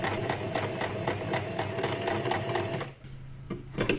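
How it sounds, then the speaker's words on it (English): A sewing machine stitches down the sides of a fabric piece to seal the ends, its needle chattering in a fast steady rhythm up close, then stopping near the end as a few quieter handling noises follow. "I thought it will be easier and quicker with machine, so I gave a stitch at the side,"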